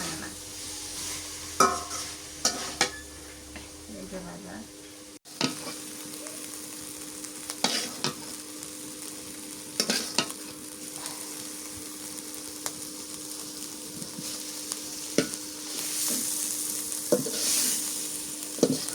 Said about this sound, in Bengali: এখন মূলের শাক ভাজি করি